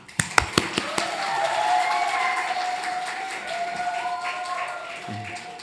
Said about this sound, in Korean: 기왕 드리는 박수, 하나님께 큰 박수로 영광을 돌립니다